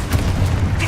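Confringo explosion spell cast in the Hogwarts Legacy video game: a short, loud, close blast with a deep boom and a crackling burst of noise, lasting about a second.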